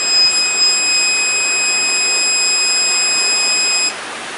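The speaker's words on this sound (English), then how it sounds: "You get a second warning tone." Second warning tone from a BT6 rechargeable no-bark dog collar: a sustained high electronic whine lasting almost four seconds over a steady hiss, then cutting off, close and clear.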